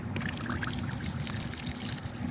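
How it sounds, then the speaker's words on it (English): Water pours steadily in a continuous splashing, trickling wash onto garden soil around tomatoes and peppers, close by and fairly quiet. "I'm just gonna water it around."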